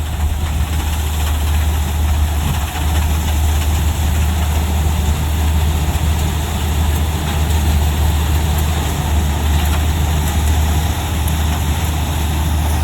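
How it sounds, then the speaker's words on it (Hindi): A harvester machine runs on a farm, its engine droning steadily and loudly with a deep low rumble and constant mechanical vibration, no voices over it. "ये मशीन का मैकेनिज्म कुछ बहुत ही स्पीड वाला है, फटाफट में काट देता है"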